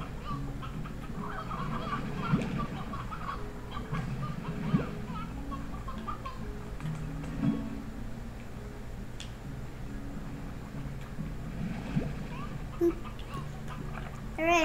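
Hens clucking in the video game Slime Rancher: soft, scattered clucks over a steady game ambience with faint ticking, continuous and low in level throughout.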